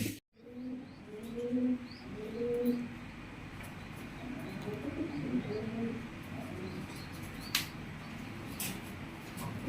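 Pigeons in a breeding loft coo in soft, repeated rolling calls close by, several birds overlapping above a steady background hiss, with a few faint chirps and a sharp click near the end.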